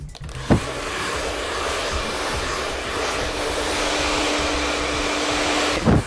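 Hair dryer blowing steadily and loudly up close while hair is blow-dried over a round brush, a continuous whooshing roar with a soft knock near the start and another near the end.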